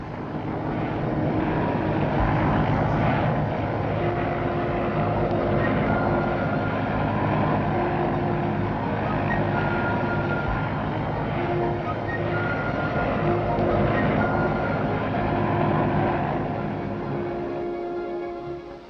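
A private business aircraft takes off and flies in 1964, a steady loud engine roar that holds for the whole stretch without a break and fades slightly at the end, with no voices.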